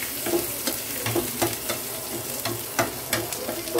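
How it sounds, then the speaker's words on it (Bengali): Crushed garlic fries in hot oil while being stirred: a continuous close sizzle broken by repeated sharp scraping strokes of a spoon against the pan, coming every half second or so. "এবার একটু রসুন থেতো দিলাম তেলের উপরে, যাতে ফ্লেভারটা খুব সুন্দর আসে"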